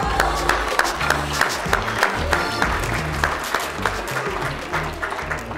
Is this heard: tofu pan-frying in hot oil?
no